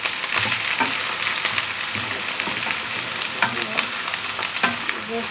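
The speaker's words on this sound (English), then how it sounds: "Once I've added the mushroom, I just stir" Mushrooms and king prawns stir-fried over a hot fire in a home kitchen, with steady loud sizzling and repeated scraping stirs throughout, no voices.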